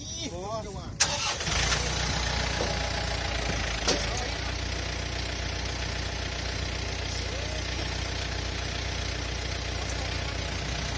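A Yanmar tractor engine cranks and catches, then settles into a steady, rumbling idle that runs continuously, with voices talking faintly over it, out in a muddy rice field.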